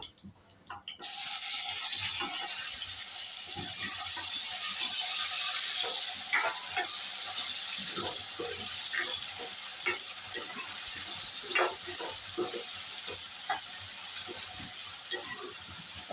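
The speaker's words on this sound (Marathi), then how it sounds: "आता हे जे आपण मॅरिनेट केलेले कोळंबी आणि बटाटा आहे ते मी तेलात टाकते" Marinated prawns and potato hit hot oil, bursting into a bright, loud sizzle that settles into steady frying crackle with scattered pops and occasional stirring scrapes.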